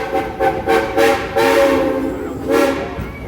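A train slowing down, with repeated rising whistle-like tones and a steady rumble swelling and fading over a few seconds; no talk.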